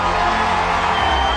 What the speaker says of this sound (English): A big round of applause for Prabhu and Pranav ji